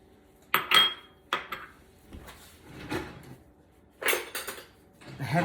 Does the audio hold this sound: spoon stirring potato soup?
yes